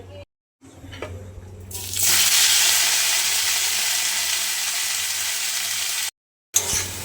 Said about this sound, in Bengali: আবার কড়াইতে তেল দিয়ে দিয়েছি, এবার কুমড়োর শাকগুলো ছেড়ে দেবো।